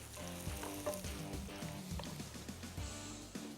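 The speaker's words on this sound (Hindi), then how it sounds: "चले जब तक प्याज फ्राई हो रहा है तड़के का" Onions frying in hot oil for a tadka, a continuous crackling sizzle under a background music track with low-pitched tones and occasional thumps.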